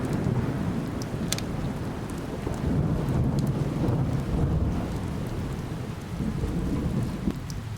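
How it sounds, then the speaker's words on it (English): Rain and thunder from the game A Merchant's Promise: a steady heavy downpour hisses and patters throughout, with deep rolling rumbles of thunder swelling under it and no voices. "so that we can take off once the rain stops"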